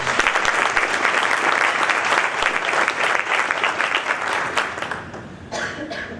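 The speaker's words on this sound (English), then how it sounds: "Let's give them both another round of applause." Loud, dense applause from a big audience at a high school senior athletic awards breakfast, continuing steadily before gradually thinning and fading out toward the end.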